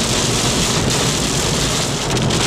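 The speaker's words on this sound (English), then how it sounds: "but the rain's still coming down" Heavy rain pours steadily on a moving vehicle during a drive, a dense, continuous hiss and drumming that stays loud and unbroken throughout, with no voices.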